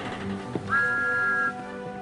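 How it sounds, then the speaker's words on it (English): A TOMY toy train engine gives a single clear, steady whistle lasting under a second, heard up close over a quiet background hum. "The engines whistled and wheeshed."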